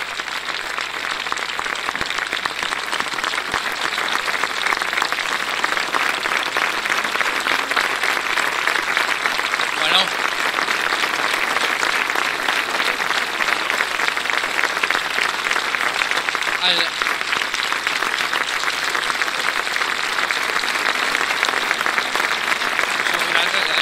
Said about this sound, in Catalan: els aplaudiments serien per la Carme, no pas per mi